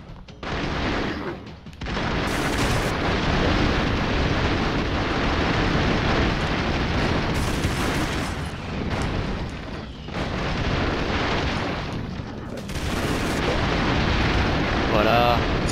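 Explosions and gunfire in the side-scrolling action game Broforce, a long, loud, nearly continuous roar of blasts and shooting with brief lulls and voices talking over it.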